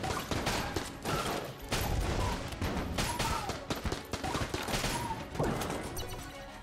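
Dense, rapid gunfire from the Mahogany gun in the video game Enter the Gungeon, with rattling bursts, crashes and game effects piling up continuously and loudly.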